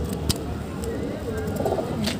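Pet pigeons coo softly in a home loft, low murmuring calls continuing at a moderate distance, with faint background noise and a couple of light knocks.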